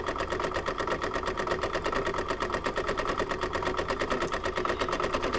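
An embroidery sewing machine runs a decorative zigzag stitch around an apple coaster, a steady, fast, even needle chatter that stays close and constant with no voices.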